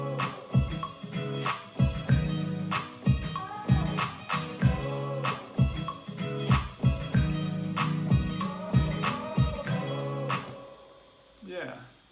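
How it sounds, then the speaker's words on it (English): A hip-hop beat plays, with the Forentech London kick sample thumping steadily under busy drums and melodic layers, loud and continuous before fading at the end. "For the kick, I used the Forentech London kick."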